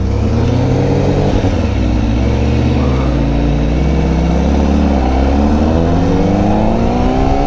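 Honda Fireblade RRR SP sport motorcycle engine idling while still cold, a loud, steady, close-up drone with shifting harmonics and a gentle rise in pitch, no voices.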